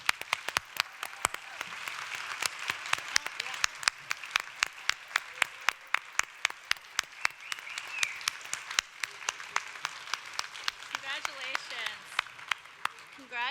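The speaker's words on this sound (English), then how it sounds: "applause" An audience at a content marketing awards ceremony applauds the award winners in a long, sustained round of many hands, with sharp individual claps standing out near the microphone and murmured voices underneath.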